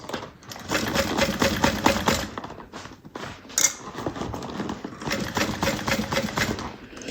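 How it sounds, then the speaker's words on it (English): A sewing machine top-stitches a bag closed, its needle clattering quickly and evenly up close in two longer runs split by short stops and a sharp clack. "now we're going to go ahead and top stitch this closed"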